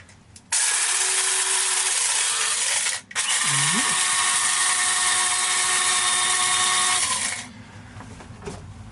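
An electric coffee grinder grinds Costco coffee beans inside a DIY hightop camper van. It gives a loud, steady, close whine that breaks off briefly in the middle, then runs again and stops.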